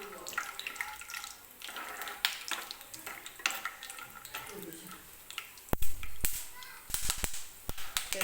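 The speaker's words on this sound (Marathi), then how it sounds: "बघा, शेंगदाण्याचा आवाज येतोय म्हणजे शेंगदाणे तळलेले आहेत" Peanuts frying in oil in a pan for kairicha bhat, a raw mango rice dish: crisp popping and sizzling crackles, with a run of sharp pops near the end, close and moderately loud while someone speaks over it.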